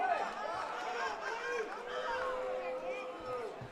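A baseball crowd at a Great Falls Voyagers versus Glacier Range Riders game murmurs and groans in disapproval after a ball four walk, a distant, steady babble of many voices with scattered shouts rising and falling.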